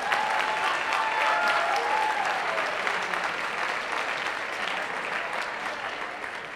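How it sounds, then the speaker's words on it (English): Steady, dense applause from a large audience at a senior awards and cording ceremony, sustained and even throughout with a faint tonal voice-like streak early on. "So let's give Mary a round of applause"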